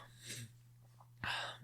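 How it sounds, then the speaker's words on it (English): Two quick, breathy sneeze bursts, the second sharper and louder, heard close against a faint steady hum in a quiet room. "I'll probably edit that sneeze out."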